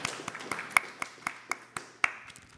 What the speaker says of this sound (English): Let's have a clap for all of you.